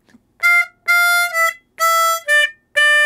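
Harmonica playing a short riff, five or six punchy reedy blow and draw notes in a syncopated rhythm with gaps between, close and loud, no talking.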